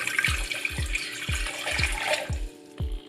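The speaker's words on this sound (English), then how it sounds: "And then I'll take a mug of water, pour that into here." Water poured from a mug into a pot while making chai tea, a close continuous splashing pour with regular low thuds about every half second, no voices.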